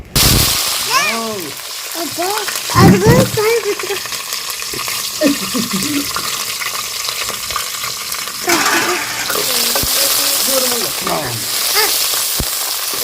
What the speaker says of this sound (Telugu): ఫస్ట్ అయితే పచ్చిమిరకాయలు నూనెలో వేపుకుందామండి.